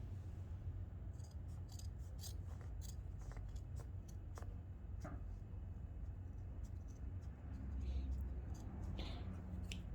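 Scissors snip through women's dress pants fabric in a series of quick, close, crisp cuts over a low background hum.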